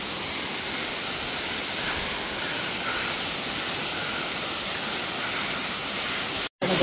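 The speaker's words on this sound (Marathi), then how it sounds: "आणि हे धबधब्याचं नाव मुनावळे धबधबा." Steady broadband rush of the Munavale waterfall, Mahabaleshwar, heard from a trekking viewpoint; a loud continuous roar of falling water with no voices, cut by a brief dropout near the end.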